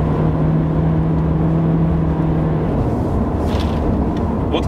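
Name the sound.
Nissan Sentra with CVT accelerating at full throttle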